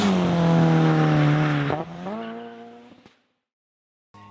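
Ford GT Mk IV race car on a racetrack, a loud engine note that holds steady, then drops as it passes and fades away, followed by a sharp brief noise and silence.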